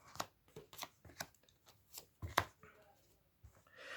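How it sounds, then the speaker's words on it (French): Oracle cards being shuffled and drawn, a series of quick close riffling and flicking bursts in an irregular rhythm, soft and intimate, with faint breath between. "Alors, je vais tirer 10 cartes."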